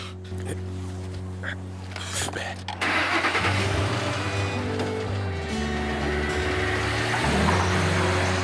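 A car engine cranks briefly, then catches and settles into a steady, rumbling idle that carries on close by for the rest of the moment.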